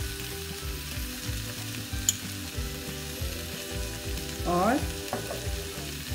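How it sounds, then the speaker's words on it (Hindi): Mixed vegetables for veg fried rice sauté in a hot pan with steady sizzling and rhythmic scraping strokes of a spatula. A few clinks and a louder stir come near the end, with a brief word spoken. "फ्रेंड्स, ये देखिए हमने सब्जियों को 3 मिनट सौते किया है"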